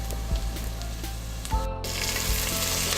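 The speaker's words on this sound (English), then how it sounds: "I saute this for about 30 seconds." Red chilies, cumin, turmeric and curry leaves sauté in a pan for a pumpkin curry, making a close, steady sizzle and crackle throughout with a few faint stirring clinks.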